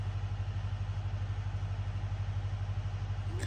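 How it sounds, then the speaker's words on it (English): A tractor engine idles steadily and close by on an off-grid homestead, a continuous low rumble with a faint mechanical clatter that holds constant throughout, with no voices over it. "I don't have to sit there and listen to that tractor run"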